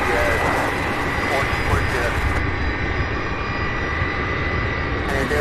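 Engines of an MD-11 jet airliner at an airport, a loud continuous roar and whine that stays steady throughout, heard from a plane spotting spot.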